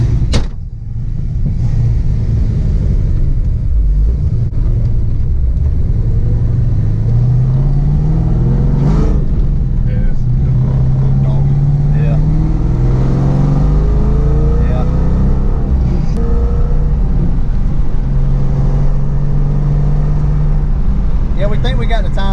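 A Ford Fox-body Mustang LX with a big cam and a surging idle is driven, its engine droning and rising in pitch as it accelerates through gears, loud and close, with people talking over it throughout.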